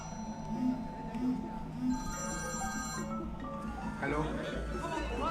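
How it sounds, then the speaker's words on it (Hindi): A telephone rings in repeated electronic trills in the TV series Mirzapur, fairly close, while muffled speech and background sounds run underneath. "सबको फोन बज रहा है।"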